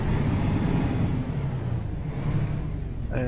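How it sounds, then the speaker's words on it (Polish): Setra S215UL coach engine idling in the OMSI bus simulator game, a steady low rumbling drone heard alone with the window closed, holding even in level for the whole stretch. "Zamknę tutaj to okno, żebyście słyszeli tylko silnik."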